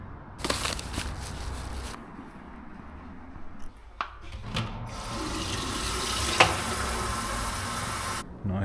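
Water running from a tap at an abandoned bunker site, a steady broadband rush that starts and stops in bursts before flowing continuously and fairly close.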